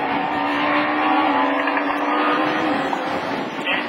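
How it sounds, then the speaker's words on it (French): Super 1600 rallycross race cars, a Renault Clio leading an Audi A1, roar past at Lessay in a loud, sustained engine howl that swells and fades slightly. "la Clio du pilote de la Varenne devant la belle Audi A1 de Monique Jagu."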